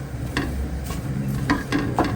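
Flour roasting with ground flaxseed powder while being stirred in a pan, soft scraping strokes and light sizzle repeating a few times, close and quiet with no talk.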